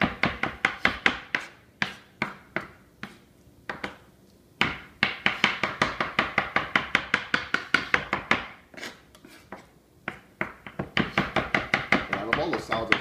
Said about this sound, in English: So I just chop up the avocado so it becomes almost a paste, or just a really rough chop.